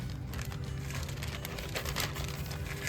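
Close, steady crinkling and rustling of a thin plastic bag used to hold natural clay, continuous for a few seconds with no talking.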